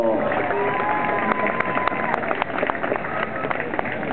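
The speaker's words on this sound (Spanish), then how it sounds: "Más bonito ese aplauso, sí señor, bien merecido." Sustained applause from a bullfight audience honours the matador, dense clapping spread across a large crowd with a continuous, steady texture and occasional louder claps standing out, with a voice faintly audible beneath.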